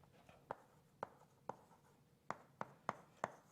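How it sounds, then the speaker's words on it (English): Chalk or pen tapping and scratching on a board during a mathematics lecture, seven sharp separate strokes at irregular intervals, close and moderately loud, with no talk. "I'll just write this on the next line."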